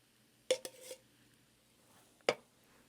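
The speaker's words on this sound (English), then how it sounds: "And we'll give that a stir and get it all mixed up." A spoon stirring beef, macaroni and stewed tomatoes in a cooking pot gives two short clusters of scraping clinks against the pot, one near the start and another a moment later, with quiet pauses between them.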